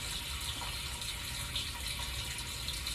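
Water running steadily from a kitchen tap while charred poblano peppers are rinsed, a continuous broadband splashing hiss with no pauses and no speech.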